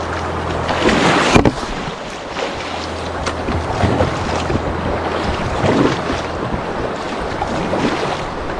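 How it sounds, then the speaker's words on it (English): Hard, quick paddling of a small boat with its motor left up, a steady wash of water churning throughout with rhythmic strokes, close and fairly loud, no talking. "I'm gonna jump in this seat and paddle hard and quick"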